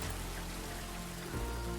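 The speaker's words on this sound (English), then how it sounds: "The rain has stopped." Steady rain in a video game, a faint, even wash of falling drops with a low hum beneath, continuous throughout with no talk.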